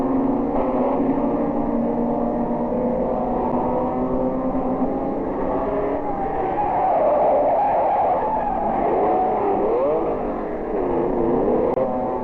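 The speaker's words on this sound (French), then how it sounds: "Le premier freinage de Zandvoort, c'est un modèle de férocité." BMW race cars at Zandvoort in 1977 braking hard into a corner, several engines droning loudly together with shifting, wavering pitches and tire noise, no speech.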